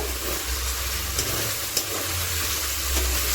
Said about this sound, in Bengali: দিয়ে দেব ভেজে রাখা পনির ও আলু দিয়ে ভালো করে নেড়ে নেব